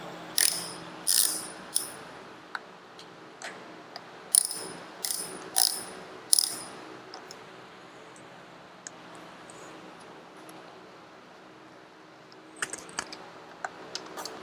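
A ratchet wrench loosens bolts on the impeller housing of a Yamaha outboard motor. Bursts of sharp, close ratcheting clicks come in the first seven seconds, then a quiet lull and a few brief clicks near the end.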